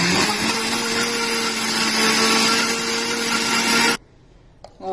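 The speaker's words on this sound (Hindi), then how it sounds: "रुक रुक कर चलाना है मिक्सी को" A mixer grinder blending a fresh fig milkshake, whirring loudly and steadily for a few seconds, then abruptly switched off, leaving near silence with a small clunk.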